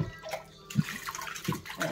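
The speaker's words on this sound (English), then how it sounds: "I'll use the same water just to rinse my bottles." Water splashes and sloshes as baby bottles are rinsed, with a couple of low knocks and steady trickling throughout.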